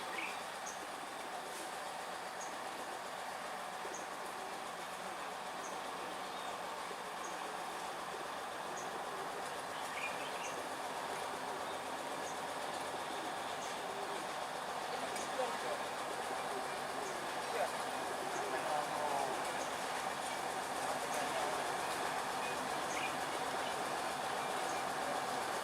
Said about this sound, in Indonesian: lokomotif D15 kembali melanjutkan perjalanan